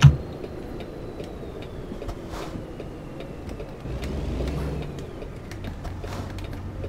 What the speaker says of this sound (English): And we hear your truck downshifting.